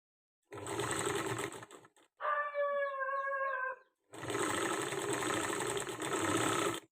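A sewing machine stitches thread piping onto a blouse in two long, steady whirring runs, separated by a quieter middle stretch with a thin, tonal mechanical whine; no voices.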